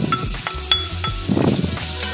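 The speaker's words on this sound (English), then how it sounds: "And then to that, I'm gonna add my bacon." Bacon sizzles in a pan of extra virgin olive oil, a soft crackle under light clinks of a utensil against the pan, close and brief.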